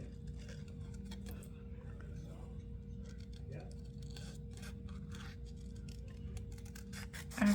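Small scissors snip and rasp through card stock, cutting out a poinsettia image with a narrow white border: soft, close, repeated cuts with quiet rustling and a faint steady hum beneath.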